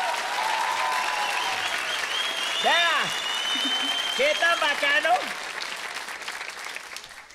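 A studio audience at a comedy talk show claps in a steady, continuous round of applause, with a voice speaking over it in the middle and the clapping thinning toward the end.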